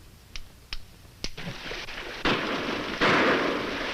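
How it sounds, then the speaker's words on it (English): Gunshots ring out from over a ridge, three sharp distant cracks evenly spaced, followed by louder bursts of rushing, rumbling noise, with no talk. "Shots sound like they come from over ridge."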